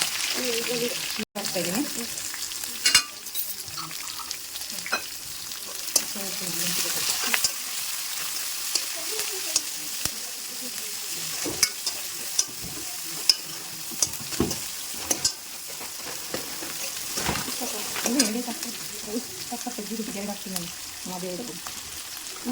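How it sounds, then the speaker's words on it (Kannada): Onion and green chillies frying in a pan, a constant close sizzle punctuated by frequent sharp scrapes and knocks of a spoon stirring against the pan. "ಇವಾಗ ಇದು ಈರುಳ್ಳಿ ಹಾಕ್ತಾ ಇದ್ದೀನಿ. ಮೆಣಸಿನ್ಕಾಯಿ ಇದೆಯಲ್ಲ ಹಾಕ್ತಾ ಇದ್ದೀನಿ."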